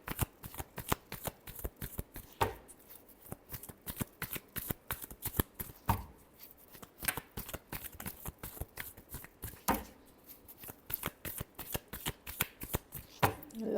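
Tarot cards being shuffled by hand, a dense run of rapid papery riffles and clicks that keeps going close-up, broken by a few louder slaps and bridging flutters.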